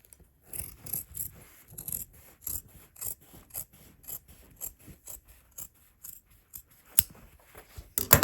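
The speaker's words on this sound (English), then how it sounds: "And now I want to trim this seam allowance." Scissors snip through a fabric seam allowance on a sewn vest, a steady run of short, close, crisp cuts spaced about half a second apart, ending in a couple of sharper snips.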